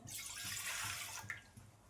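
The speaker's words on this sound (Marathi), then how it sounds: "मी एका पातेल्यात पाणी घालून घेणार आहे" Water pours into a cooking pot as a soft, continuous splashing rush, heard nearby but fairly quietly and alone for about two seconds.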